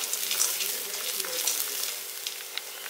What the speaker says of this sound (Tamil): இப்போ எல்லாத்தையும் சேர்த்து நல்லா வதக்குங்க